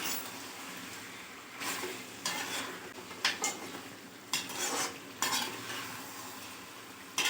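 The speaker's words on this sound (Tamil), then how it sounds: "நல்லா கிளறி விட்டுக்கிட்டே இருக்கணும். இப்போ கறி கொஞ்சம் நல்லா வதங்கி வரணும்." Chicken pieces fry in a pan for a gravy while being stirred, steady sizzling under repeated scraping strokes of a spoon against the pan, close and moderately quiet.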